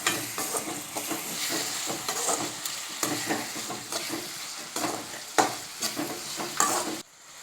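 Chopped tomatoes stirred into onions frying in a pan for masala rice, a steady sizzle broken by repeated scraping stirs and clatters close by, with no talking.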